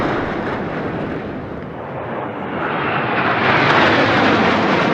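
Military aircraft roar past in Bars formation during India's Republic Day parade at Rajpath, New Delhi, a loud broad jet rumble that dips briefly and then swells louder as they pass overhead.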